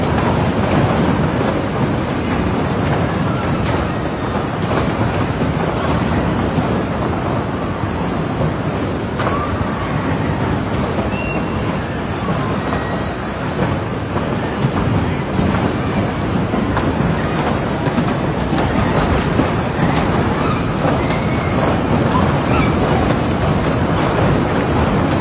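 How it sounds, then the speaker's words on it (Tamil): Huge hailstones about 11 centimetres across pounding down over a city bay area, a loud, dense, continuous roar of heavy impacts and rushing noise that holds steady throughout with no break. "11 சென்டிமீட்டர் அளவிலான பெரிய ஆலங்கட்டி மழை விழுந்ததில் பெரும் சேதம் விளைந்திருக்கிறது"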